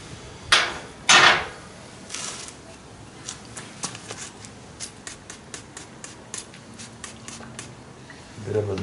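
A hammer striking a pallet jack part during repair, two loud metallic blows near the start followed by a string of lighter, irregular taps and knocks close by.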